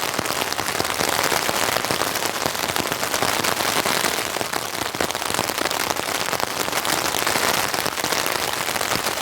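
Heavy rain drums steadily on a camping tent during a rainstorm, a dense, loud, continuous patter with sharp close drops and no voices.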